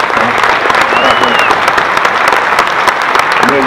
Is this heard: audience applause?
yes